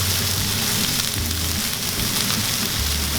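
Tomatoes and broth sizzle steadily in a hot pan for Khanom Jeen Nam Ngiaw, a dense, continuous crackling hiss with a low bubbling undertone, close and unbroken throughout.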